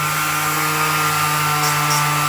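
Power sander taking paint off a sign with 180 grit sandpaper, a loud, steady motor whine with a constant hum and gritty abrasion running throughout.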